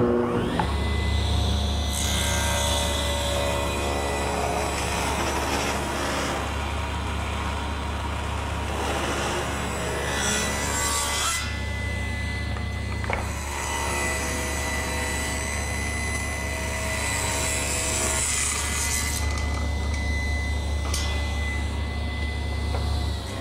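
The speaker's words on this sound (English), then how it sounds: "You might have noticed how easily I cut through the cherry." Saw ripping thin 1/8-inch strips off 3/4-inch cherry, a loud sustained machine roar with a steady low hum and shifting higher cutting tones throughout.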